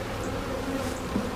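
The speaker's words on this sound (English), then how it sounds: "there's a ton of bees in here" Dense, steady buzzing of many honeybees in an open hive during a full inspection, a continuous close hum with no talking.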